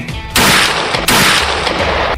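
Two loud, sharp gunshot blasts in quick succession, each followed by a long ringing roar that fills the clip, with no talking.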